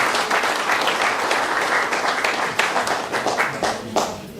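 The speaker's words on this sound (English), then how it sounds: "So please, a round of applause." A concert audience at a Dublin Fleadh traditional music event breaks into sustained, dense applause, many hands clapping loudly and close, tapering slightly toward the end.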